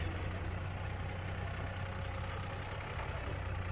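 A large six-cylinder diesel tractor engine, a 7840 fitted with a sugarcane planter, runs steadily with a deep, smooth low rumble and even idle, continuous and fairly close throughout.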